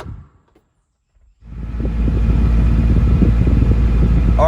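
A 1980 Toyota pickup engine starts up after a short silence and revs steadily above idle, with the air-conditioning fan blowing; a loud, continuous low rumble and whir that holds to the end.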